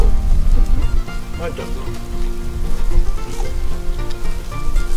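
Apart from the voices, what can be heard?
rain falling during outdoor barbecue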